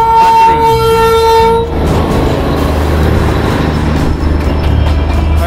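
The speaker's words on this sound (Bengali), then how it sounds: "এই সেই টয় ট্রেন।" The Darjeeling toy train at Batasia Loop gives a sustained whistle, then rumbles and clatters past close by in a loud, continuous roll of wheels on track.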